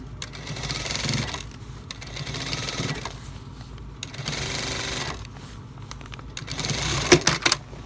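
A sewing machine stitches the side seam of white jeans, running in a steady mechanical whir for several bursts with short pauses and a few clicks at the end.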